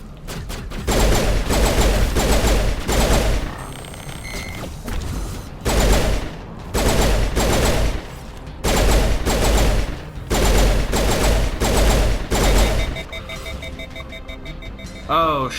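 Gunfire in Mass Effect Legendary Edition, rapid automatic bursts coming in repeated volleys a second or two long, loud and close, with short pauses between them.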